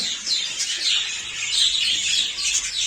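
Dense, constant chirping and tweeting from many budgerigars in an aviary, a bright overlapping chorus close by with no pauses.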